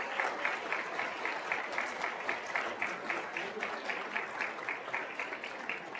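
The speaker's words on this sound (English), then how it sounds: "Let's give them a round of applause." Ceremony audience applauding faculty and staff at a student induction event, sustained rhythmic clapping from a large crowd filling the room, steady and moderately loud throughout.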